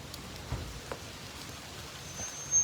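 Rain falls on a porch as a steady soft hiss of drops, close and even with a few faint knocks, with no talking.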